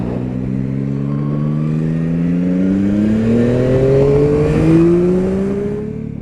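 A Yamaha Tracer 9 motorcycle accelerates hard in second gear to overtake a truck, its engine note climbing steadily and loudly over constant wind and road roar with no talking.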